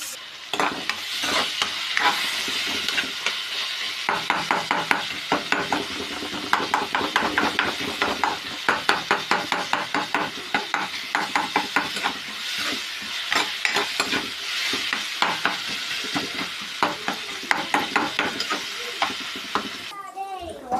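Tomato and potato masala stirred and frying in a pan, a steady sizzle under repeated scraping strokes of a spoon, close and fairly loud throughout.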